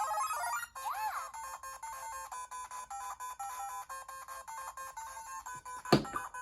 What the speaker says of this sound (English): she'll make like star sounds, which is pretty nice